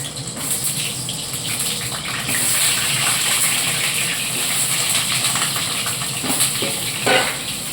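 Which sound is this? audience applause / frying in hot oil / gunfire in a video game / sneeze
frying in hot oil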